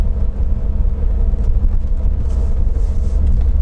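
A Lada Niva driving on snow and ice in rural Bashkortostan, heard from inside as a steady, loud low rumble of engine and tyres with constant road noise and no talk.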